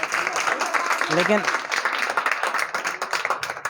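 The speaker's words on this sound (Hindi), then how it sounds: "तो भावना के लिए ताली बजाओ यार" Applause for a student named Bhavna Parmar in a classroom quiz, a steady crowd of clapping hands mixed with chatter and a voice speaking over it.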